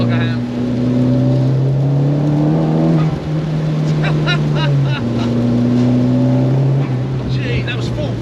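A Renault Clio 172 with a swapped 340 bhp Audi 1.8T engine accelerates hard through the gears, a loud droning engine note rising in pitch, dropping at each shift and climbing again, with voices talking over it inside the car.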